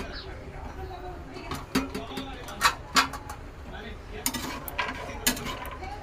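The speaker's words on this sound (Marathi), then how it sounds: "आता काजू, बदाम, पिस्ता हे सर्व आपण भाजून घेऊया." Cashews, almonds and pistachios being stirred as they roast in a pan, with scattered clinks and scraping taps of a spoon against metal close by, under a faint background and without clear talk.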